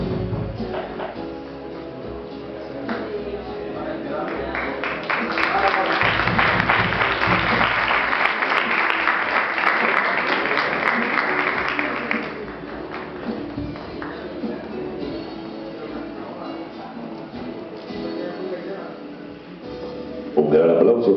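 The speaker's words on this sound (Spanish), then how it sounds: "Un gran aplauso también, gratitud y reconocimiento para Nancy Castro, que es de la República Hermana del Perú" Applause from an audience at the closing ceremony of a senior couples' dance festival in Paraguay swells into a dense burst of clapping mid-clip, then eases back to scattered claps beneath voices.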